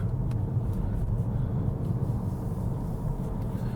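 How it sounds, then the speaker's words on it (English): Volvo S60 T4 R-Design car driving on a road, heard from inside as a steady low engine and road rumble while smoothly shifting up through the gears, with no voices. "The car is very smooth going up through the gears."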